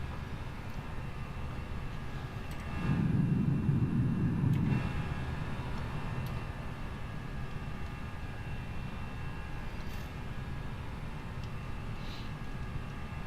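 A Flight Factor A320 airliner taking off in X-Plane 11, heard as a steady, fairly quiet engine roar and rumble with a brief swell of low rumbling early on.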